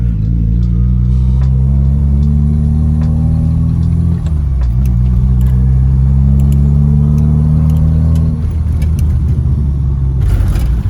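A car engine drones loudly up close as it pulls in third gear, its tone climbing steadily, dipping sharply around the middle, then climbing and dropping again, with no talking.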